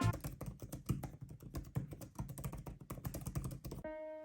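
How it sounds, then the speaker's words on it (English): Typing on an iPad Pro Magic Keyboard: a close, steady run of crisp key clicks and soft thunks in irregular quick rhythm, with a brief quiet tail at the end. "The clicks are so satisfying to listen to."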